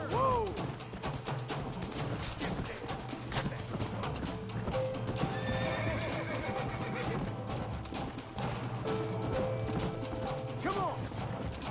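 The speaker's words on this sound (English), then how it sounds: "Get away from that horse." Horse neighs and whinnies in the Western video game Red Dead Redemption, with hoof clip-clop and a busy mechanical game soundscape continuing throughout, loud and close, with brief voices mixed in.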